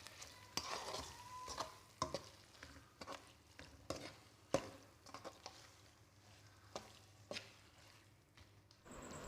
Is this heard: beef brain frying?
yes